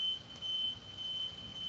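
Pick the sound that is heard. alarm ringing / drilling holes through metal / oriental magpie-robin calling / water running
alarm ringing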